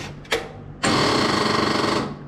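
A hydrolocked tractor engine's starter motor whirs loudly with a rapid, rhythmic mechanical chatter for over a second, but the engine never catches and then falls silent.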